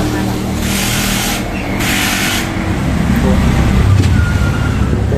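Highway traffic rolls past a roadside eatery in a steady, loud wash of passing cars and heavier vehicles, with a few swells as individual vehicles go by.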